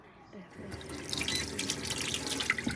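A tap in a camping car is turned on and water gushes out after a brief quiet moment, then runs in a steady, close splashing stream.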